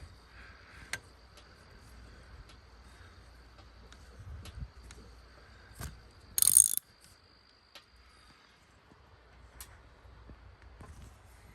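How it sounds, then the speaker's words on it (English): A ratchet tightens the spring nut on a rebuilt Kenworth truck air solenoid, giving sparse close clicks and short ratcheting bursts with one louder burst midway, with no talk. "now we'll tighten down the nut that goes to the spring"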